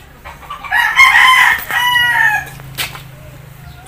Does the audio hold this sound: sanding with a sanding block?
no